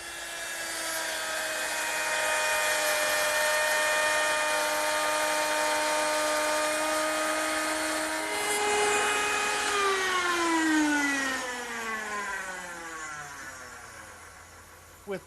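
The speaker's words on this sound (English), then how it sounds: "With the same dovetail bit mounted in my router, which is now under this router table, I'm able to make the male part of that dovetail joint" A wood router spinning a dovetail bit up through a router table holds a steady high whine for most of its length, then its pitch sags as it cuts into the wood, ending with a sharp click.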